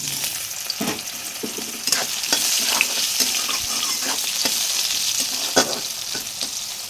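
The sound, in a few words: soybean chunks frying in oil in a wok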